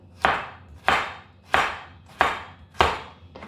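A knife chops a carrot into batons on a board, five sharp, evenly spaced strikes about two-thirds of a second apart, close and crisp with short decays and no talking.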